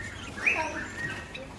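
Lorikeets chirp briefly in a busy space; a few bright, high calls rise over a low background murmur.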